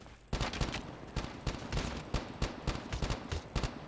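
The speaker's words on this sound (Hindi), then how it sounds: "देख रहा है मेरा फायरिंग?" Rapid bursts of gunfire from the mobile shooter Call of Duty Mobile, dense and repeated in quick uneven volleys throughout, loud and close with no talk over it.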